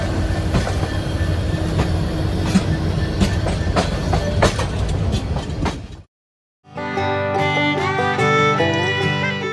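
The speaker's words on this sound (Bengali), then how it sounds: "যে 4 নম্বর প্ল্যাটফর্ম থেকে আমাদের জামালপুর এক্সপ্রেস ট্রেন ছেড়ে যাচ্ছে জামালপুরের উদ্দেশ্যে।" Jamalpur Express pulling out of platform 4 at Dhaka's Kamalapur railway station: steady rumble and clatter for about six seconds, a brief drop to near silence, then sustained tonal sounds over continued rolling noise.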